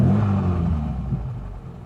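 An MG Midget with a Lenham Le Mans GT body gives a short, close engine rumble under light throttle, its low drone fading slightly over a couple of seconds.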